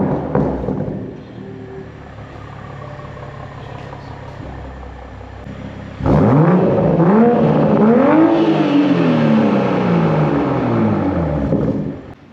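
A 2021 Toyota Supra A91 Edition idles quietly, then its engine barks loudly as it pulls away. Repeated revs rise and fall through the gears in a strong cabin-heard roar that holds steady to the end.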